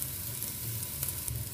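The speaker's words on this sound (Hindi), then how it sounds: "अब इसको अच्छे से भून लेंगे।" Masala fries in a hot pan for an Indian breakfast recipe, giving a close, continuous sizzle with scattered small crackles and pops and no talking.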